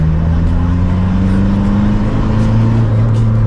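Turbocharged car engine fitted with a new intercooler, heard from inside during a test drive, a loud, steady drone that climbs gradually in pitch as the car accelerates, with no pause throughout.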